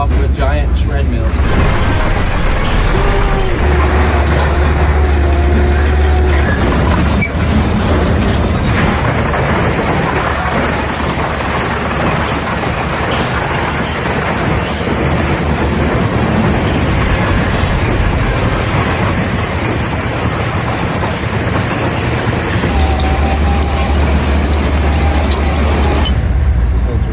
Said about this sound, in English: we're just gonna gently dump my Ferrari into the shredder